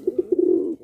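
A pair of Sobji racer pigeons kept for breeding coo in three short, close calls that run into one longer, steady coo, with no voices heard.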